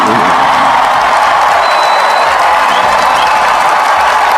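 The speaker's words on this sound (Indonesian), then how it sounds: "Ruangan pun bergemuruh teriakan dan tepuk tangan meriah." A large crowd in an auditorium cheers and claps loudly in a dense, continuous roar of applause and shouts, greeting a public figure's arrival.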